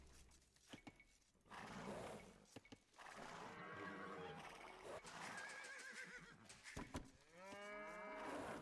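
Cows moo repeatedly in an Age of Empires 2 match, overlapping calls over a busy game soundscape with horse whinnies and steady background activity.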